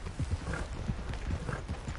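Hooves clip-clop steadily from a horse in Red Dead Redemption 2, a close, continuous rhythmic trotting patter with no talk over it.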